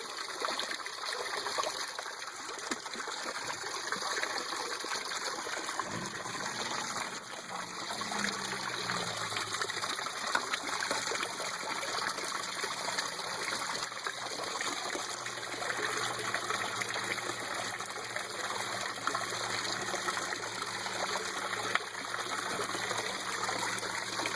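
Water in an aquaponic bed drains through a siphon as a continuous rushing trickle and gush, with a faint low gurgle partway through.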